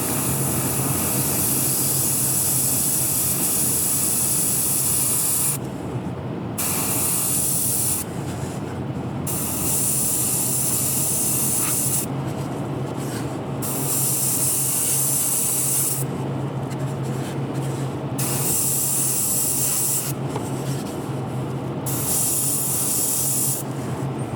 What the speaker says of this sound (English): all we have to do is spray the sides inside and out